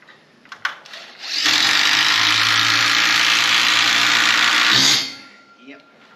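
A power drill drives a self-tapping screw into a steel roof column in one sustained loud whine of about three and a half seconds, close by, with brief clicks and handling noise before and after.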